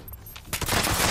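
Burst of gunfire in Fallout 76, rapid shots erupting suddenly after a brief quieter moment and continuing loud and dense to the end.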